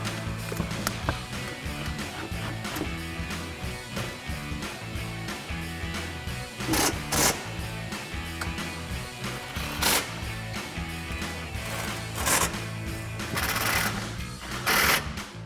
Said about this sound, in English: Then we'll grab our impact and 13mm swivel socket and tighten all of those down.